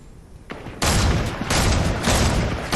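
Rapid bursts of gunfire in Fortnite on PS4, a dense fusillade that kicks in loud after a softer opening and keeps rattling near and heavy with overlapping shots to the end.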